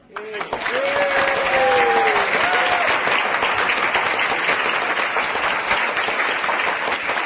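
A standing-room-only crowd at a democracy rally in Victoria, British Columbia, applauds a speaker with loud, dense, sustained clapping, briefly mixed with cheers and whistles near the start.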